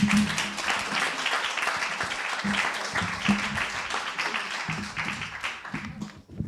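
Sustained applause from a debate-competition audience, dense steady clapping from many hands filling the room, loud and continuous throughout and tapering slightly near the end.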